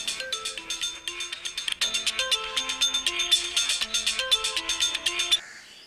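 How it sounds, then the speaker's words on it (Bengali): A mobile phone rings indoors with a bright melodic electronic ringtone, a quick rhythmic run of chiming notes repeating for several seconds, clear and close, then cutting off abruptly; no one speaks. "মনে হয় বনুই ফোন করেছে।"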